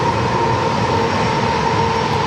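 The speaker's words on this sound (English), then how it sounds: "British Airways to 777-300ER coming in from London Heathrow" British Airways Boeing 777-300ER arriving from London Heathrow, heard as a loud, steady jet engine roar with a sustained whine, constant and close throughout the short stretch.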